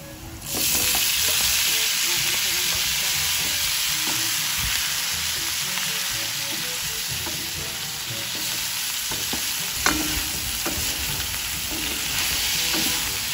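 Duck pieces frying in a pan for adobo sa gata, with a loud continuous sizzle and occasional stirring clatter close by.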